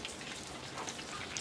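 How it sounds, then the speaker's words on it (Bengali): Heavy rain pouring down outside, a soft, even, continuous hiss with no distinct drops and no talking. "আর বাইরে দেখো চলছে বৃষ্টি"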